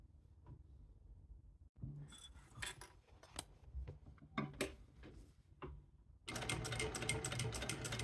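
A sewing machine stitches a tote bag near the end, a loud steady buzzing run after sparse clicks and fabric handling.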